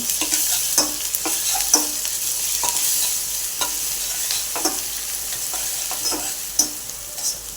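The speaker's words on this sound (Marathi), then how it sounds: "मिरची आणि लसूण टाकूया ठेचलेलं तेही एक मिनिटभर परतून घेऊ" Crushed chili and garlic stir-frying in a pan for okra bhaji, a steady close sizzle broken by irregular scraping and stirring knocks from a spatula, with no talking.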